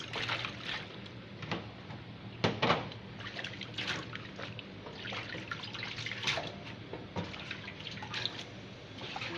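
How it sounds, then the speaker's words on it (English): Garden egg leaves washed by hand in a bowl of water to remove sand, giving close, soft sloshing and dripping splashes with irregular louder swishes and no talking. "Then you wash it. Wash it very well, because it has a lot of sand on it."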